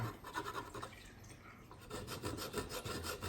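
A stone works the metal of a Smith & Wesson Model 19 revolver around the hammer pivot. It makes a close, steady rasping rub in short, repeated strokes with no talk.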